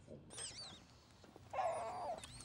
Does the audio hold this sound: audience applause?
no